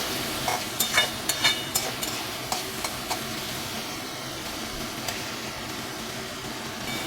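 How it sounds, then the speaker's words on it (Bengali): Potatoes and tomato frying in a pan for a Bengali chana dal give off a steady low sizzle, broken by a quick run of sharp scraping stirs near the start and a few more spaced out later. "টমেটোটা একটু গলে যাক, আলুটাও আর একটু ভাজা ভাজা হবে।"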